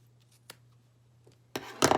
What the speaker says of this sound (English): I'm actually going to trim a little bit.